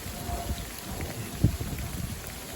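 Steady rain pattering on a surface during a winter thunderstorm with hail, a soft low rumble, one brief louder thump partway through, no voices.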